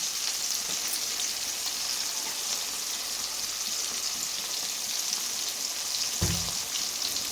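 Ground masala fries in hot oil with cluster beans for a biryani, a steady close sizzle and crackle running throughout with a brief stir or scrape near the end.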